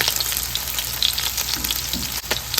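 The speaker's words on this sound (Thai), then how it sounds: "ดิฉันก็จะใส่กระเทียมเข้าไปเลยนะคะ ใส่สามเกลือค่ะคั่วให้หอมนะคะ" Garlic and salt fry in oil for a pork belly dish, making a dense, steady crackling sizzle close by with small spits and no speech.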